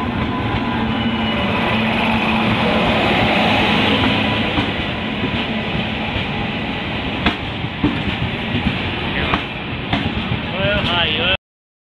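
Train at a crowded railway station, a loud steady rumble and rattle of railcars with constant crowd chatter and voices layered over it.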